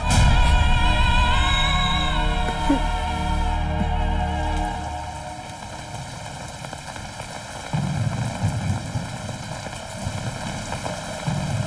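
Steady rain falls in a broadband hiss, heavy at first alongside a low rumble and tonal hum, then thinning to a lighter patter before a low rumble returns near the end.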